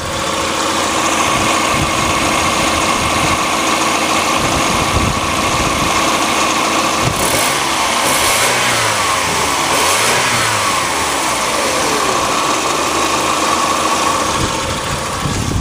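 A 1990 Mazda Miata MX5 engine idles close up with a steady mechanical rattle, then revs up a few times before settling back to idle.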